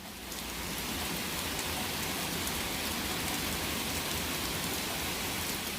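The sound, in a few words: storm with hail and thunder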